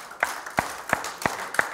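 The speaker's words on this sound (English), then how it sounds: "Give the Lord a hand clap." Five sharp, evenly spaced hand claps ring out at roughly one per third of a second during a Sunday church service, fairly faint and set in a quiet room.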